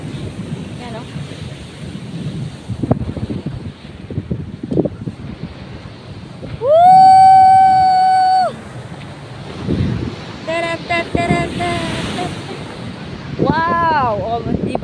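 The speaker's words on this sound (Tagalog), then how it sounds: "so, napaka-alon po guys" Wind buffets the microphone at a beach while ocean waves rumble and wash in the background; a few short harmonic tones and a voice break in partway through.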